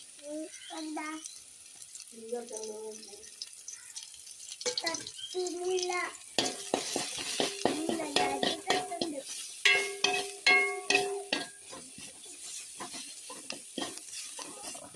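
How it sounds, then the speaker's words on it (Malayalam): Chili powder and salt are stirred into browned, fried onions in a pan, with a spoon scraping and clattering repeatedly and fairly loudly in the second half, after a few seconds of voice-like sounds at the start. "നമുക്കിതിലേക്ക് മുളക് പൊടി ഉപ്പും കൂടി ആഡ് ചെയ്യാം."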